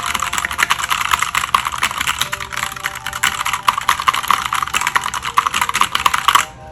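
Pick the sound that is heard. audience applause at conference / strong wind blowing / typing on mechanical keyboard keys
typing on mechanical keyboard keys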